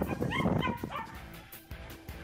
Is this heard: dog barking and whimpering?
yes